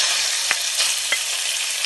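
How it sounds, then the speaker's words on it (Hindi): Chopped chicken chunks frying in a pan, a dense close hiss of sizzling fat broken by a few sharp crackles and pops, with no voices. "इसमें हम ये चिकन डालेंगे।"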